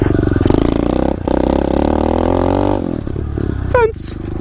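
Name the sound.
SSR 125 pit bike engine revving in second gear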